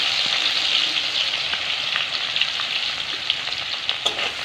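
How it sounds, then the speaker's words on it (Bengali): Cardamom, cinnamon, bay leaf, green chili and ginger fry in hot oil for a vegetarian paneer curry, giving a loud, dense, unbroken sizzle with small crackling pops, near and free of talk. "তেলটা তো গরম তেলই, এর মধ্যে দিয়ে দেবো দুটো এলাচ, একটু দারচিনি, আর একটা তেজপাতা।"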